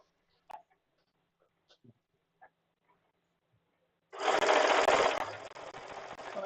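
A sewing machine quilting a jelly roll starts after a few faint taps and handling sounds, then runs steadily and loudly at high speed for the last couple of seconds without any talk.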